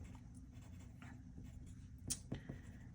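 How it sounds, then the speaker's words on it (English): Pen scratching on paper while writing notes by hand, a faint quiet scribble at close range over low background hum, with a couple of brief louder strokes near the end. "So under notes, I'm going to write"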